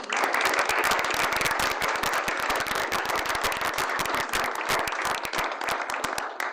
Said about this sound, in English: if you would indulge me in a round of applause for Bonnie and Mary Ann